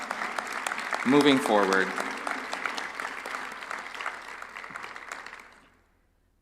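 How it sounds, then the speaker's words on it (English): Audience applause at a global education meeting, a dense steady wash of clapping that swells and then fades to silence near the end, with a speaker's voice briefly audible over it early on. "please give yourselves a round of applause for all the work that we are going to embark on"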